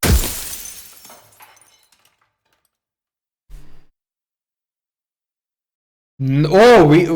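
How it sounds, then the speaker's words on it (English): A glass mirror shatters in the video game Slay the Princess: a loud crash with tinkling shards that fades over a second or two, then near silence, a brief dull knock, and finally a voice sighing and exclaiming. "We break the glass."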